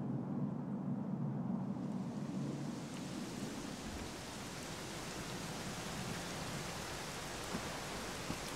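Steady rain falls in the video game Dragon Quest XI S, a dense hiss of drops with a low rumbling layer early on that fades, leaving an even, quiet downpour.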